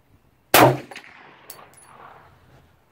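A single loud, unsuppressed gunshot from a Vepr rifle chambered in .45, firing subsonic rounds, cracks sharply and alone, then trails off in a short ringing echo with a few faint clinks.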